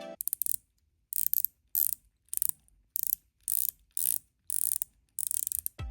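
Carbon fiber watch bezel on an automatic GMT turned in short ratcheting bursts, about nine crisp clicking runs evenly spaced with quiet gaps, close and clear with no talk.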